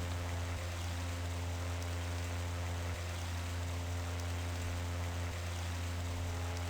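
Steady, unbroken rush of a waterfall in the video game I Have No Mouth And I Must Scream, a constant broadband wash over a low droning hum, with no voices.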